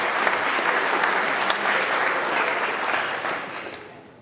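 A crowd at a trucking company's monthly employee awards event claps steadily in a dense burst of applause that holds for several seconds, then begins to thin out.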